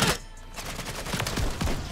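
Shotgun blasts in the video game Modern Warfare 3, a sharp boom at the start followed by a couple of further heavy thuds amid busy game noise, fairly loud throughout.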